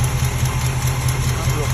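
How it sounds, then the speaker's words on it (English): A 1974 Chevrolet Nova engine idles with a steady, rough low rumble and a puffing exhaust leak at the front, with doubled-up gaskets on thin header flanges. It runs close and continuous with no talk. "Exhaust leak up front, but I'll figure that out."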